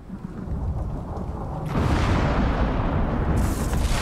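Heavy thunderstorm with lightning in the video game Icarus, a steady roar of rain with a deep rumbling thunder swell that builds partway through and stays loud, with no talking over it.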